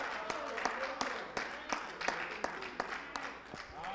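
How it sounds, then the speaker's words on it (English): A church congregation claps hands in praise during a Sunday service, a fairly faint patter of sharp, irregular claps spread through the room, with voices calling out beneath. "give God a hand clap of praise"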